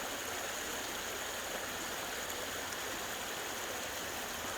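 Water in a natural stream rushes and splashes in a steady, dense, unbroken flow, loud and close with no voices.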